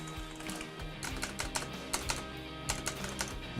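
Rapid clicky typing on a Logitech G910 Orion Spectrum RGB mechanical gaming keyboard, close up and fairly quiet, with irregular bursts of keystrokes and no talking.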